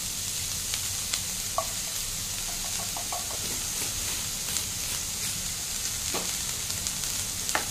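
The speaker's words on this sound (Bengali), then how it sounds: "ভালো করে মিশিয়ে নেব। দিয়ে একটু এটা ভাজতে দেবো।" Oats with salt mixed and frying in a pan for oats pulao, a steady close sizzle with scattered soft scrapes and stirring clicks throughout.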